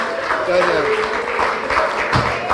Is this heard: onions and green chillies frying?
no